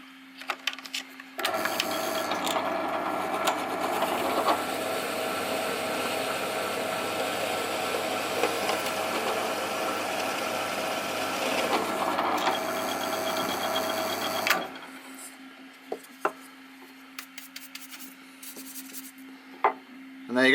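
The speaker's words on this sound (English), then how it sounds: "The only trouble with these Forstner bits is when they cut an MDF is they clog up so fast." A drill drives a Forstner bit through MDF: a steady, close mechanical whirring grind lasting over ten seconds, then stopping, followed by quieter hum and a few light knocks.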